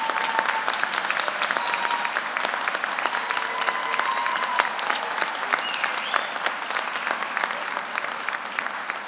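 A graduate commencement ceremony crowd gives a steady, sustained round of applause, dense clapping filling the hall evenly for several seconds with a faint voice beneath.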